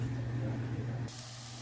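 Bratwurst slices browning in a pan give a steady, close hiss and spray-like sizzle that holds evenly, then drops to a quieter, thinner hiss partway through.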